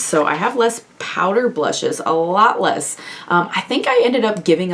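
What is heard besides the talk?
No everyday noises stand out.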